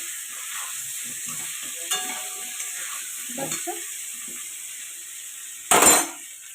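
Potatoes frying in hot oil in a pan, a steady close hiss of sizzling with scraping stirs throughout and a sharp metallic clatter near the end.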